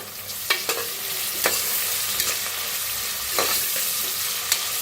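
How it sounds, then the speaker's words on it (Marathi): Chopped onion, asafoetida and curry leaves sizzle in a hot pan, close and steady, with several distinct scrapes of a spoon stirring through the mix. "कापून घेतलेला कांदा थोडस हिंग आता ह्याच्यात टाकूया कढीपत्ता आणि छान असं मिक्स करून घेऊया"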